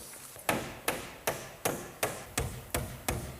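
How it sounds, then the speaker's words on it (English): A nail is hammered into the edge of wooden garage wall sheathing, eight sharp, evenly spaced blows landing about every half second, close and loud with brief ringing decays between strikes. "I'm going to take this nail and tack it into the edge of the sheathing like this"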